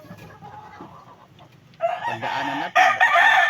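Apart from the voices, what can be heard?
rooster clucking and crowing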